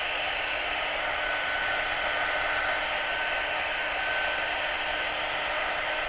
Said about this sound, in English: we're going to just hold the heat gun still, and then as soon as that powder starts to melt and change, I'm just moving the heat gun over the image